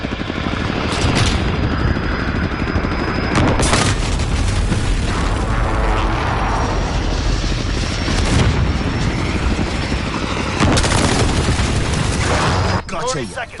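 Explosions from an enemy precision airstrike in Call of Duty Modern Warfare land as several heavy booms spread across the clip. A helicopter-like whir and scattered gunfire run underneath, and brief game voices come in over the loud mix.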